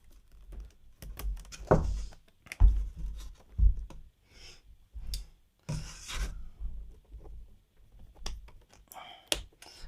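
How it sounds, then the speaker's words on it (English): Rubber band stretched and snapped around a wrapped outdoor mushroom bed, giving intermittent close rubbing, scraping and clicking noises separated by short quiet gaps. "I'm gonna take our rubber band and just go around it here."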